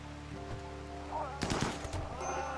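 Colonists in the video game Rimworld fire at panthers: a short, clustered burst of gunshots cracks out midway through, over a quiet background hum.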